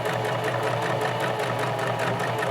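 A sewing machine stitches along the bottom edge of a pocket, with a fast, steady, even mechanical whirring and needle clatter running throughout at close range.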